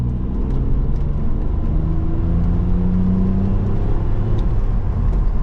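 A BMW Z4 engine revs above 3,000 RPM, heard from inside the cabin as a steady, loud mid-range drone and rumble that holds for several seconds with no talking.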